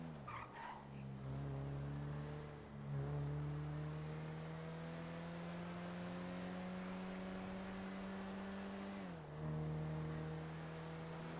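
A car in a French roleplay video game revs hard with rising engine harmonics, shifting pitch around the three-second mark and again near nine seconds, loud and continuous with tire squeal at the start and no talking.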